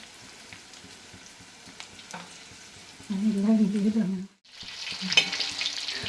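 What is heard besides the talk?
chicken frying in a pan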